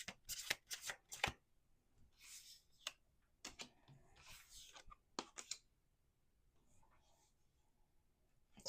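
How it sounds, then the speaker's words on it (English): Tarot cards are shuffled by hand, with crisp riffling bursts and soft slapping and sliding of the deck in irregular bunches, close and clear, fading to quieter handling near the end. "Let's do 2 more shuffles."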